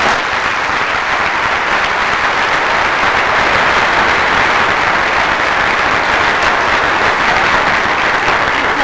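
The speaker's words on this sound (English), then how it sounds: "I think Al really deserves a big round of applause" Loud, dense applause from a pageant audience at the 1991 Miss Indiana Pageant, a steady roar of many hands clapping for the MC that holds without break for the whole stretch, with no voices standing out.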